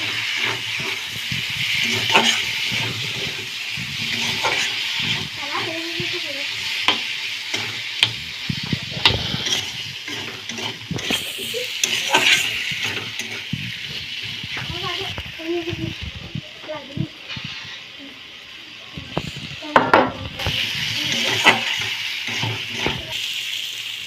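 Small kuche fish fry in hot oil in a Bengali kitchen, giving a continuous sizzle broken by repeated stirring clatters and scrapes, with a voice speaking intermittently in the background.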